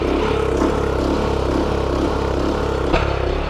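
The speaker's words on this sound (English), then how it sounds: "I don't know if you can hear it, but here's our problem." A small garden tiller engine with a fuel clog runs nearby, its steady putter rising and falling in a mild surge, with a brief knock near the end.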